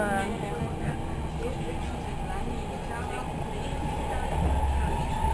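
Steady rumble of a train running on rails toward Amsterdam Central Station, with a constant low drone and faint rattling throughout, people talking quietly over it.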